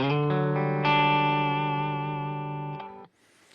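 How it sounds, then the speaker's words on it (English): A sustained, ringing electric guitar chord played softly on a single coil setting, cleanly through an amp, rich in overtones, slowly decaying before cutting off near the end. "if I put it on like a single coil setting on the guitar and play softly, I can get a clean sound"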